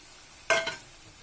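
Tomato puree hitting hot oil with a frying onion and masala mixture for a lauki kofta curry: a single sharp sizzling splash that flares suddenly and fades within a few tenths of a second.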